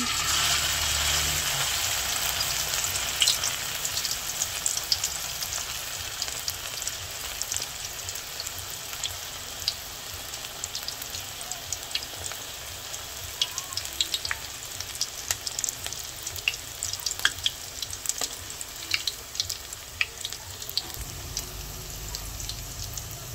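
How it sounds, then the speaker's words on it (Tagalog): Banana blossom fritters (ukoy) fry in hot oil in a wok, giving a steady close sizzle with crackling pops that run for the whole stretch without any talk. "mainit na po yung mantika at atin na po isasalang"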